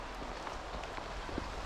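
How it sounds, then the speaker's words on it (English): Rain falling outdoors during a long woodland hike, a steady soft hiss of drops with faint scattered patters, continuous and close, with no talking. "so it's raining pretty much"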